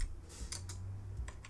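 Quiet, close clicking of a computer keyboard as Python code is typed, a few quick irregular keystrokes with soft pauses, alone without talk.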